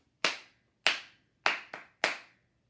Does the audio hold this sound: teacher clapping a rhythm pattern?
yes